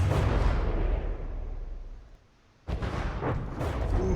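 In the From the Depths naval combat game, an artillery shell explodes against a battleship turret. A loud rumbling blast fades over two seconds, followed by a sudden second heavy impact and continued booming.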